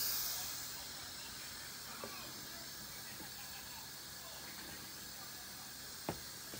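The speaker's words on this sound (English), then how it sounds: "Still a little bit of steam coming out of there." Steam hissing out of an Instant Pot pressure cooker vent, a steady high airy hiss that stays faint and constant throughout, with a couple of tiny clicks.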